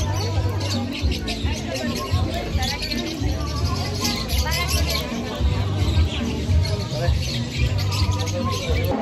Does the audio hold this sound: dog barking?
no